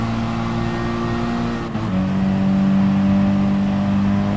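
A race car engine in the GT Sport video game drones steadily at high revs, then briefly dips at a gear shift before settling into a lower, louder pitch, close and sustained.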